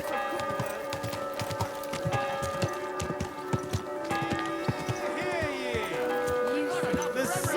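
Horse hooves clip-clop steadily in the medieval RPG Kingdom Come: Deliverance II, a close rhythmic trot mixed with a brief whinny, town bustle and speaking voices over layered background music.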